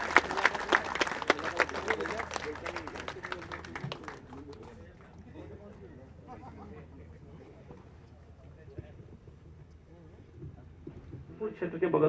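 Audience applause at a final-day function, dense clapping from a crowd for the first few seconds that fades out, followed by quieter room sound and a speaker's voice.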